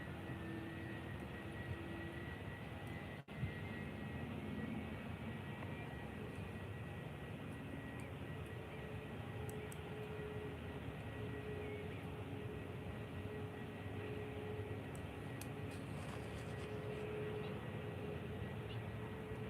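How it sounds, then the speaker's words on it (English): Lufthansa Airbus A321 approaching Faro Airport, a steady distant jet engine roar that holds evenly throughout, faint and continuous, with no talk. "Lufthansa A321."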